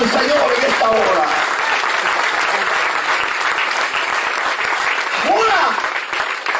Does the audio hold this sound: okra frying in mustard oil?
no